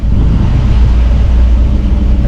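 Restored 1972 Ford F250 Highboy pickup truck driving down the road. Its engine gives a steady, deep rumble that stays loud and even throughout, with no voices over it.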